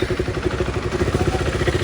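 A KTM RC 390 BS3 motorcycle engine idling just after starting, with a close, loud, steadily pulsing exhaust beat and a mechanical clatter.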